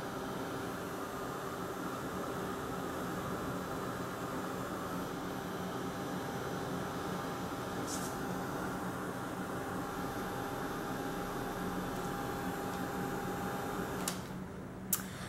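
A heat tool blows a steady, loud, unbroken whoosh while heat setting a decoupage tag coated with Ice Resin, ending in a couple of brief clicks.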